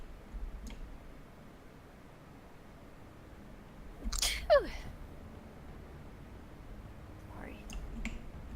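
A single sneeze bursts out midway, a brief sharp close blast against a quiet room background with faint soft noises around it.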